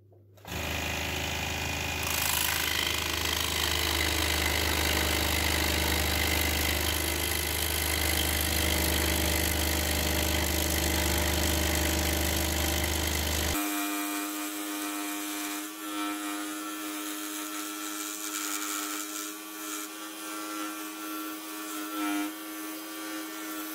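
A scroll saw buzzes steadily with a rapid rhythmic chatter as it cuts wood, then the motor's tone changes and continues more lightly with intermittent cutting noise.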